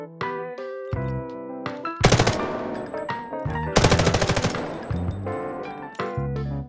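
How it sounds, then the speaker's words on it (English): Weapon fire in the mobile shooter Delta Force Mobile, two loud bursts of rapid automatic shots that stand out over tonal background music, each lasting about a second. "It will fire your weapon during the ADS animation instead of after the animation"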